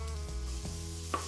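Chopped onion sizzling in olive oil in a pan, a brief steady frying hiss with one small clink, close and fairly loud with no talk.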